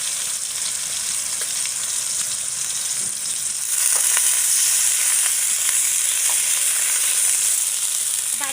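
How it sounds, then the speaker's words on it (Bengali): Water poured into a pan of frying spicy tomato sea fish curry, a constant close sizzle that swells louder midway, with light stirring taps and no speech. "দিয়ে দেবো হালকা করে পানি"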